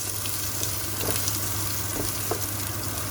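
Corned beef with onion sizzles steadily in a pan, a dense close crackle of frying that runs unbroken with no talk.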